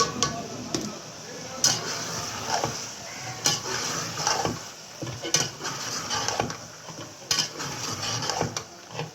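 Peas tipped into a pan of fried fenugreek and stirred with a utensil, giving light scraping and clinking knocks of metal on metal in an irregular rhythm at close range, while someone talks over the cooking.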